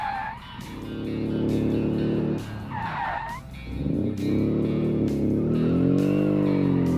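Rear-engine car in a racing video game, engine droning loud and steady as tires skid and squeal through corners, revs dipping and climbing again with no voices.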